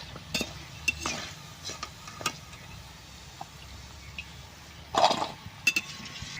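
Nimki frying in oil and being lifted out of the pan, a low, quiet sizzle under scattered knocks and clinks of a utensil against the pan, with a brief louder clatter near the end.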